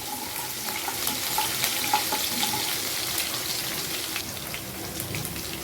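Curry leaves and finely chopped green chillies sizzle and get stirred in a pan, a steady close hiss with light scraping and small crackles throughout.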